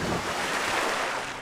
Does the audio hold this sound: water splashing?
yes